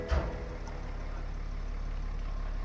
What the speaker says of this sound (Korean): 3000cc의 6기통 디젤에 이 시동 걸었을 때 이 묵직함과 정숙함이 같이 공존하는 차량이라 보시면 될 것 같고